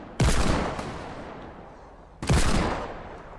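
Gunfire in Fortnite creative mode, two sharp, loud shot bursts about two seconds apart, each followed by a decaying echo tail, with no talking.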